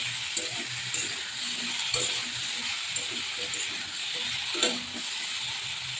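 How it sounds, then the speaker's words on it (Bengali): A vegetable curry with salt and half a spoon of turmeric is stirred in a pan, with a continuous hiss of frying and periodic scrapes and light clinks of the spoon, close and moderately loud, no talking. "এবার ভালো করে নেড়ে নেবো।"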